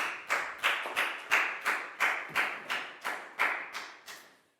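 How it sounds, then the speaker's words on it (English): About a dozen evenly spaced claps ring out in a steady rhythm, crisp and fairly close, as a classroom group claps together with no talking. "High five and a big round of applause for Dan, please, guys."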